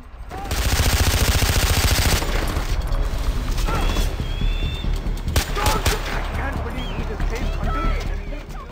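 Skorpion submachine gun firing in Far Cry 4, a loud dense burst of rapid automatic fire up front, then scattered shots and clatter amid ongoing battle noise, with someone talking over it.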